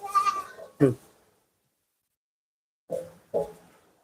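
Young goats bleat in short cries, one pair near the start and two more after a silent pause, close and fairly loud.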